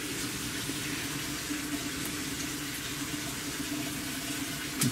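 Water runs steadily from a newly installed kitchen faucet, flushing out the hot water system as a constant, fairly quiet hiss.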